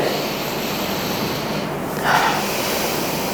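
Someone breathes in and out during a seated chair mobility exercise: a close, airy breath noise runs throughout, with a stronger, sharper exhale or snort near the end.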